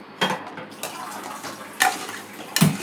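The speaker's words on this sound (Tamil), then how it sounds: "இப்போ தண்ணி ஊற்றிடுறேன்." Water splashes into a pot of kofta curry on a home stove, a steady pour broken by a few sharp clinks of metal vessels, close and fairly loud.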